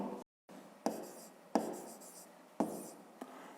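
Handwriting during a fifth-grade maths lesson: a run of close scratchy strokes, each starting with a sharp tap as the tip touches the surface. The strokes come at an uneven pace in a quiet room with no talk.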